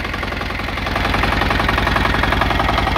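A diesel engine with electric starter on a BCS walk-behind tractor idles steadily up close, a loud continuous knocking chug with even rhythmic pulses and no talking.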